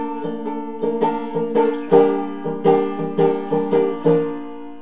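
Banjo chords ring out in a steady picked pattern, about nine bright strummed hits in a row, played alone and clearly up close, the opening of a song.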